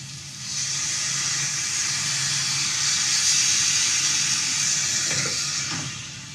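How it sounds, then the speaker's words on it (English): Tomato liquid pours into rice in a hot pan, setting off a loud, steady rush of hiss and steam that holds for several seconds before easing slightly at the end. "And this tomato liquid is what's going to color our rice. So just go ahead and add that to your rice."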